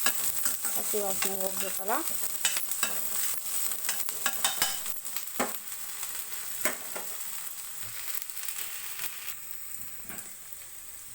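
Chilli chicken frying in a pan, crackling sizzle broken by repeated sharp scrapes and clacks of a spatula stirring, loud at first and easing slightly; a voice speaks briefly near the start.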